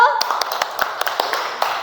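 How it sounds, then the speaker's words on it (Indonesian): A small group of students claps in quick, uneven rhythm for a group in a classroom, close and lively, with a voice briefly at the start. "Tepuk tangan untuk kelompok 1."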